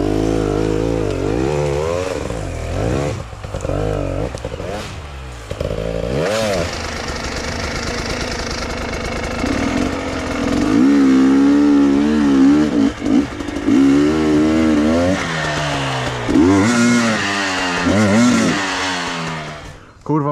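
An enduro motorcycle revs hard in first gear while climbing a rough slag-heap trail, the engine roaring, dipping and surging close up for the whole stretch as a rider talks over it.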